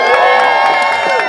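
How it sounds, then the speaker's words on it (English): A rally crowd at a housing protest bursts into applause, cheering and whoops, a loud, dense wash of clapping and shouting voices sustained for the whole brief moment. "Please give him a round of applause."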